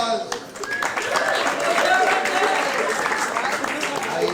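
A comedy audience keeps clapping for comedian Randy Levin, a sustained crowd applause that holds at an even level, with scattered voices and cheers mixed into the clapping.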